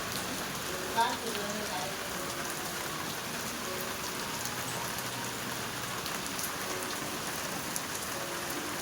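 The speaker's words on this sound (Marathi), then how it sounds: "जोरदार इकडे पाऊस सुरू झाला" Steady heavy rain hisses and patters on surfaces, with faint voices buried beneath the downpour.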